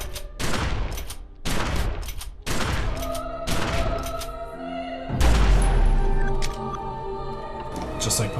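A pump-action shotgun fires in The Secret World, with five sharp, loud blasts spaced about a second apart followed by a heavier bang and ringing tail, with game music and effects underneath.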